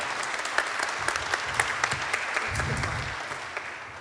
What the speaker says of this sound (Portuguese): Então vamos recebê-los com uma salva de palmas também